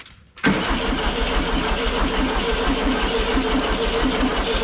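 An engine with almost no compression cranks over after a brief quiet start, a loud, steady, rhythmic churning that runs on without catching or firing.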